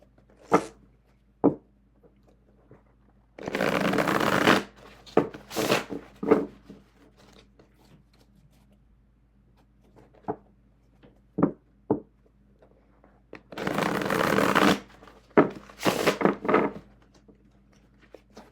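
Two bursts of playing cards riffling and bridging, each a couple of seconds long, separated by light taps and clicks of cards being handled in a quiet room.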